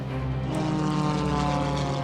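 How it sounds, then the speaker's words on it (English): A propeller stunt airplane flies at an airshow during a wing-walking routine, its engine a loud, steady droning buzz with a rich harmonic hum, close and continuous with no talk. "I'm looking at one thing, John's airplane."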